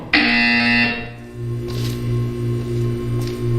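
A loud electronic buzzer in the video game Portal 2 sounds for about a second, then a lower pulsing electronic drone continues in regular beats.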